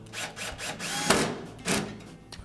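On a Whirlpool washer under repair, a power tool drives retaining screws with short whirring bursts and clicks, close and moderately loud, with no talking.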